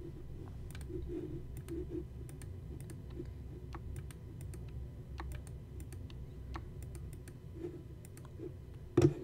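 Computer mouse clicking and dragging during Minecraft play: steady soft scraping under scattered sharp clicks, close and fairly quiet, with a louder knock at the end.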